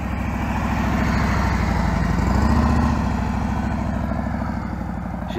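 A motorcycle engine runs at low RPM, about 1,500, while the rider works the friction zone in a riding-skills drill, giving a close, steady, pulsing thrum that rises slightly midway and stays loud throughout.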